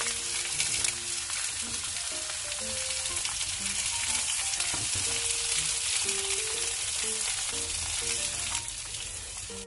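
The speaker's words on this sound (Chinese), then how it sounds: "将处理好的苦瓜平铺在锅子里面煎" Prepared bitter melon pieces laid flat in a pot pan-fry in oil, giving a loud, continuous sizzle with a crackling, rain-like texture that holds steady throughout, with no voices.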